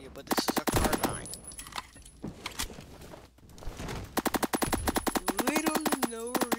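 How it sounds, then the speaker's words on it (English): A carbine fires in a video game in rapid automatic bursts, loud and close, with a brief lull between volleys. A voice talks over the gunfire at times. "But this is a carbine."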